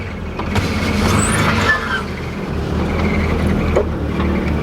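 An old, worn Nissan Navara ute with a flat tyre runs its engine, giving a steady low rumbling drone that stays even and fairly loud throughout, with faint knocks and rattles over it.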